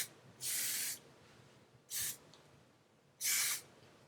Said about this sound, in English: I'm going to put hairspray on my hair like this